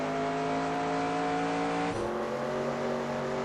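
Race car engine in NASCAR Racing 2002 held at full throttle around Watkins Glen, a loud, steady high-pitched drone with a brief gear shift or pitch dip midway before settling again.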